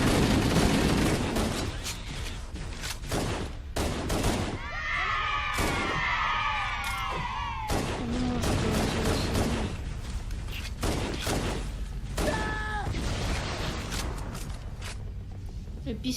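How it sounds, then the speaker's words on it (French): Pistol shots ring out in Halo CE, a run of sharp repeated cracks scattered through a busy battle soundscape with screams and explosions, loud and close throughout. "Le pistolet sur Halo."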